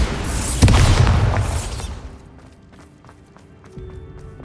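A Bombarda blasting spell from the Hogwarts Legacy video game goes off as one loud, booming explosion early on, its rumble tailing away into quieter game ambience with faint scattered clicks.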